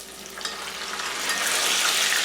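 Chicken pieces frying in hot oil, a steady close sizzle and crackle that swells louder toward the end, with no talking.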